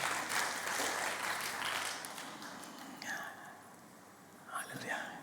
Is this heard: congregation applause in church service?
yes